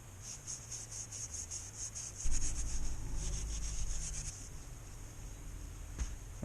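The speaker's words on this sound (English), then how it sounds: "I'm actually going to use very fine Scotch-Brite and just clean around the edges, only lightly." Very fine Scotch-Brite pad rubbed lightly around the edges of an air box on a Huskzuki 200 T2 motorcycle build, a fast, repeated scratchy scrubbing rhythm close up, with a low rumble joining partway through.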